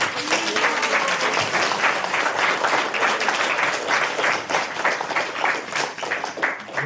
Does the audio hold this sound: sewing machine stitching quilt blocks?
no